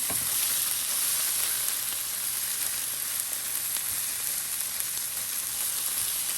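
Spinach and potatoes frying in oil in a pan, a loud, even, continuous sizzle with a steady hiss and no talking.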